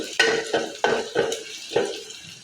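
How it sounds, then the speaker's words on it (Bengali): Onions fry in a pan while being stirred, heard as a run of five or six sharp, evenly spaced scraping clinks against the pan over a soft background sizzle, close and fairly loud. "পেঁয়াজ ভাজতেছি,"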